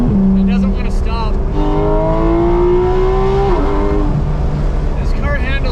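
A Porsche GT3 RS naturally aspirated engine revs hard and climbs in pitch through the gears, loud and close, with a steady rising wail past 8,500 RPM and brief voices near the start.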